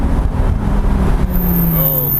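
A Lamborghini Gallardo Superleggera's V10 engine drones in a loud, steady low rumble close by, with a rising tone near the end and voices talking faintly over it.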